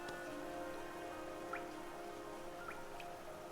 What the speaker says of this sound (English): I still love the sound of the rain upon glass.